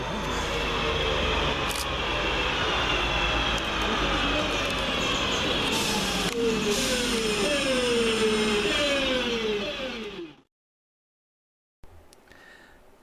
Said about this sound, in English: here comes our train in the form of 323-215 and 323-208, working the 1508 West Midlands Railway service from Bromsgrove to Lichfield